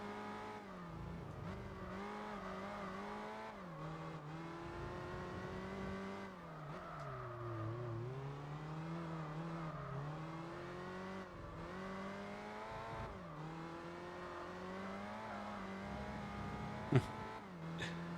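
Gran Turismo 4 Turbo RS race car engine in an LMP race, a steady loud drone with rising and falling revs and gear changes, no talk over it.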